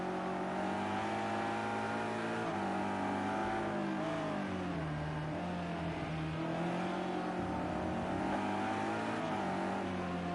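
A powerful BMW race car at the Nürburgring GP in Project CARS 2 drones steadily near and loud, its engine pitch shifting up and down through gear changes over ten seconds with no talk.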